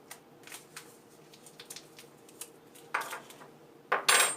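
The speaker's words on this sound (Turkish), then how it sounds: "Gelişi güzel şöyle bir karıştırayım hemen." Dry yeast and flour being stirred with a spatula in a bowl for simple no-knead bread dough, giving soft scraping and clinking taps, then two louder scraping bursts near the end, with no talking.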